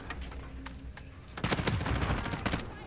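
Rapid bursts of automatic gunfire in the Warzone video game, a short faint volley followed by a louder sustained rattle of shots for over a second.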